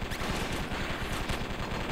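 Explosions and rapid gunfire from the video game Circuit Breakers, a dense burst of rattling shots and booms running continuously for a couple of seconds, loud and close with no talk.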